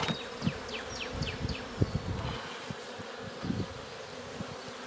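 Honeybees buzzing around an opened beehive during a hive check, a dense close hum with individual bees whizzing past the microphone in brief louder passes, no talk.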